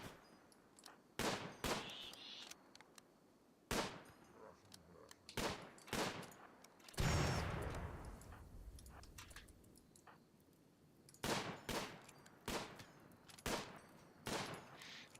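RimWorld colonists shoot at boom rats, sharp, separate gunshots popping at irregular intervals amid quiet, with one longer, louder burst or blast near the middle.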